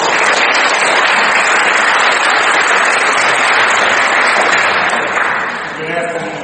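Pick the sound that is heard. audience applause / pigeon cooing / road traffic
audience applause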